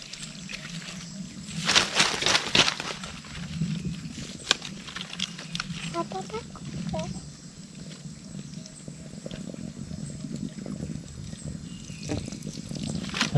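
Water from a mountain source runs through a repaired pipe, making a steady pouring and splashing rush with a few louder bursts, close by, with light background noise and no clear talk.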